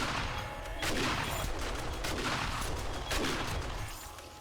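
Shotgun and turret gunfire in 7 Days to Die: a rapid series of loud, close gunshots in bursts, with a few stronger blasts standing out, with no talk.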